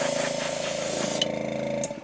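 Paint spray gun hissing and buzzing as it sprays chartreuse fishing lure paint, a loud steady drone that briefly sputters and stops near the end.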